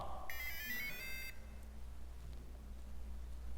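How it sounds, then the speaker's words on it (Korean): A robot coding kit gives a short, bright electronic trill of rising beeps after its batteries are seated correctly. The beeps come early and last about a second, over steady room hum in a library class. "띠리리릭 소리가 나면 건전지가 잘 꼽아진 거고"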